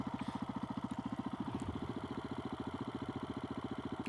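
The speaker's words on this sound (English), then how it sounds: "I'm downshifting and just letting that engine deceleration happen" A DRZ470S motorcycle engine decelerating during downshifts on a break-in ride, a steady rapid thumping pulse with a low mechanical drone and faint wind in the background, holding an even rhythm throughout.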